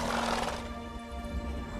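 A horse in the Witcher 3: Blood and Wine video game gives a short, loud neigh that fades into a sustained tonal hum.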